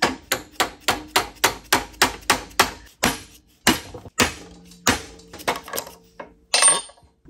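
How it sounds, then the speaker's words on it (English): Steel hammer striking the Jacobs taper on an old Walker Turner drill press chuck, a steady run of about ten sharp metallic taps followed by a few irregular heavier blows, loud and close with no talking. "give it another tap. And what this next tap will do is break the Jacobs taper free from the chuck"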